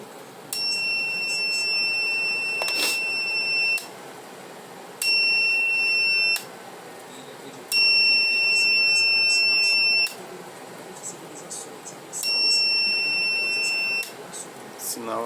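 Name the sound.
power supply beeping, short-circuit protection during inverter repair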